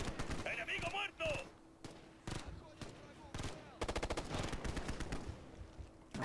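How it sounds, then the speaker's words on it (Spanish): Light machine gun fire in the video game Ghost Recon: Future Soldier: several rapid bursts of gunshots mixed with shouted voice lines and other battle noise, loud and close throughout. "¡Ametralladora ligera!"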